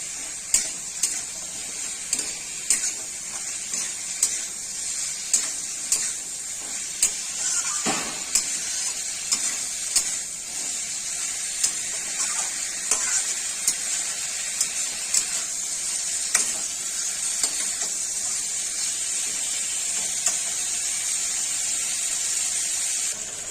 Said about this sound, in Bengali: ফ্লেমটা বাড়িয়ে একটু ভাজা ভাজা করে নেবো